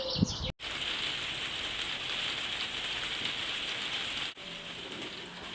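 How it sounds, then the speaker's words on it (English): Steady rain falls in a garden, a dense, even hiss of drops on surfaces that runs almost the whole time, broken by two brief cuts, with faint birdsong now and then. "it's started raining now, so I'm going to head in"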